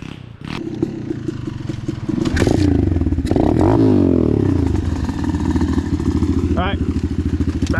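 Apollo DBX15 Chinese pit bike engine running steadily while riding, loud and close with a revving surge midway and clattering chain or frame rattles throughout.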